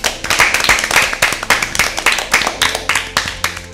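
Steady applause for Team B at an Easter Bible quiz, many hands clapping loudly and densely for the whole stretch with an uneven, rippling rhythm.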